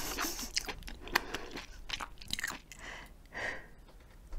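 Close, crunchy chewing and biting of gooseneck barnacles and limpets, shelled seafood eaten raw, with irregular wet crunches and soft mouth sounds over about four seconds and no talking.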